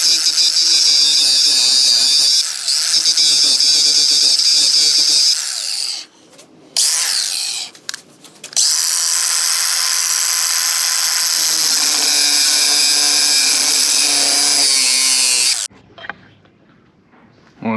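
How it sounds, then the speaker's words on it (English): A grinder cutting a notch into a Honda K24 engine pump, a high-pitched continuous grinding whine in long bursts with short pauses between, loud and close. "get the grinder and grind it off"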